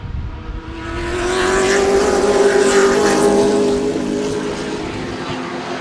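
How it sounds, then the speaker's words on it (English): A Ford Mustang race car passes at Sebring racetrack, its engine note rising as it approaches, holding a loud droning pitch, then fading as it moves away. "We had the little Mustang left the surface."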